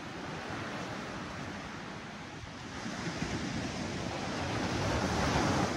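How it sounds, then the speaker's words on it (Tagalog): Strong ocean surf breaks on the shore at a beach camping and surfing resort, a dense continuous roar with wind noise that swells louder toward the end, no voices. "Kusog yung balod."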